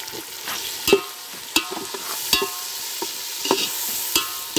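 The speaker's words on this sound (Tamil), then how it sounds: "இப்போ நறுக்கி வச்ச தக்காளியை ஆட் பண்ணிக்கலாம்." Chopped tomatoes frying in a pan for plain biryani, added after chilli powder and stirred, giving a steady close sizzle with sharp spoon-scrape clacks every second or so, no talking.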